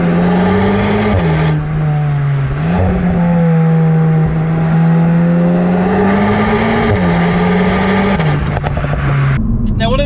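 A VW Golf GTI Clubsport 45 Edition drones loudly from inside the cabin while being driven hard, its engine note rising and dropping with several gear changes as someone talks over it.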